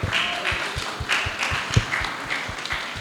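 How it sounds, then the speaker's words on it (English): An audience at a design panel session applauds, fairly quiet, steady clapping from a modest crowd that continues evenly throughout. "Let's clap for him."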